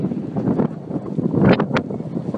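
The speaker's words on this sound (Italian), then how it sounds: "Un'altra giornata a pedalare contro vento e mi sto allenando per le montagne" Strong headwind buffeting the microphone while cycling on a road trip from Barcelona to Lisbon, a continuous low roaring rumble with gusty surges and brief rustling bursts, fairly loud and with no talking.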